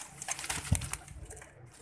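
A large show pigeon held by a breeder gives a soft, low coo once near the middle, over close rustling and handling noise.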